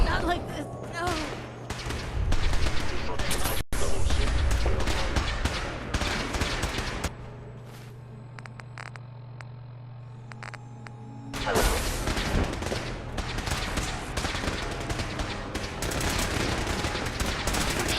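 Gunfire in the video game Fallout 4, dense bursts of automatic shots and booms filling most of the stretch, dropping to a quieter hum midway before the shooting resumes loud and sustained.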